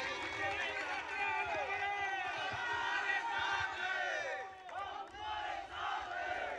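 Large crowd at a Shiv Sena political rally cheering and clapping loudly and steadily, with whoops and shouts rising through the noise and a brief dip before the roar resumes.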